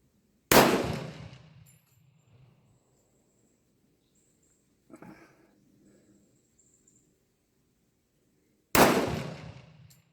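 Two loud, close pistol shots from a Tisas 1911A1 crack about eight seconds apart, each with a short decaying echo, with a faint clink between them.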